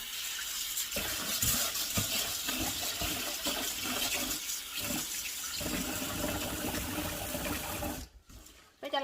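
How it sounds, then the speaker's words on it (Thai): Glutinous sticky rice is washed in water, with continuous close sloshing and running-water sounds that stop abruptly near the end. "นี่ก็ล้างข้าวเหนียวก่อนนะคะ"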